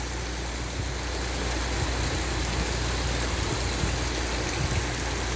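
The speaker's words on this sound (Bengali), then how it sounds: "অন্যান্য দিন এত বৃষ্টি হয় নাই, আজকে প্রচুর বৃষ্টি।" Heavy rain pours steadily at night in Al-Ahsa, Saudi Arabia. A loud, even hiss of falling water holds without pause from start to end, with no voices.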